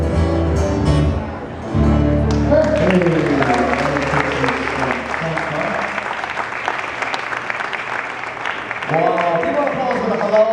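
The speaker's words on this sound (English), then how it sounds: "big applause for the Hello Waikiki as well" Audience applause rings out after a Hawaiian Christmas hula performance, a steady wash of clapping that swells after a short dip, with voices and music mixed in under it.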